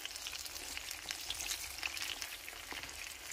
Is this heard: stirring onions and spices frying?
yes